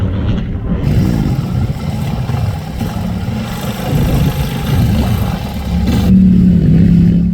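Off-road rescue vehicles arrive at a park trail, engines droning and revving steadily nearby, growing louder toward the end.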